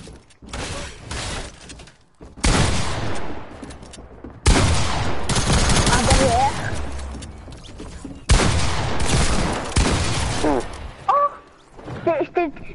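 Bursts of rapid video game gunfire crackle loudly in several separate volleys, with some shattering impacts between them, while players talk over the shooting.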